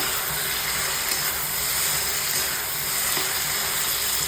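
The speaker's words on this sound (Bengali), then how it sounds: "খুব ভালো করে নাড়িয়ে নেব।" Turmeric and coriander powder are stirred in a hot pan, giving a steady, even hiss of sizzling that holds at a constant level throughout and stands alone without talk.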